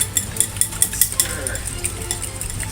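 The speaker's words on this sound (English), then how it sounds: "Stir eggs. Stir an egg." Egg yolks being stirred in a bowl for spaghetti carbonara, a quick run of light clinking taps from utensil against the bowl, close and fairly soft, fading into quieter scraping.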